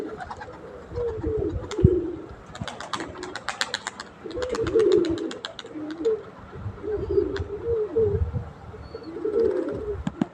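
A racing pigeon coos repeatedly near a loft, soft throaty phrases in a loose rhythm with a few chirps from other birds, fairly close and unaccompanied by talk.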